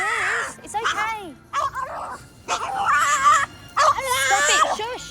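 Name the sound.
dog Bruce screaming and whimpering in a pub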